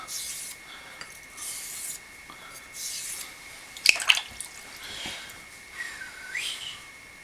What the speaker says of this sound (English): I'm torquing the edge towards the stone a bit so that I'm cutting into the edge and getting a bevel set.